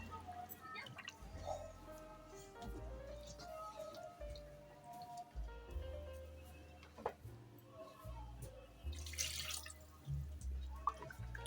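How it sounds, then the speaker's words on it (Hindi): Water is poured into simmering chicken curry gravy in a home kitchen, making a soft splashing and dripping sound over about eleven seconds, with a few scattered clinks. "इसके अंदर आप पानी जितना आप चाहते हैं उस हिसाब से डालें।"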